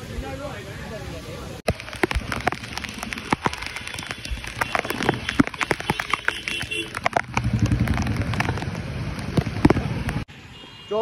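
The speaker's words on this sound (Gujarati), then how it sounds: "વરસાદ પાછો ચાલુ થઈ ગયો" Heavy rain pours down during the first monsoon downpour near Bhavnath in Junagadh, a dense steady wash of noise running loud and close throughout, with voices talking over it and a brief cut near the start.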